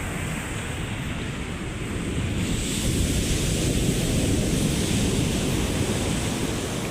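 Large typhoon-driven waves from Typhoon Kristine pounding the seashore at Calintaan, Occidental Mindoro, a continuous loud roar of surf mixed with heavy wind buffeting on the microphone.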